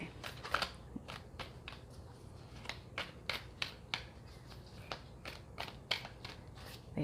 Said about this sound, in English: They shuffle nicely that way as well.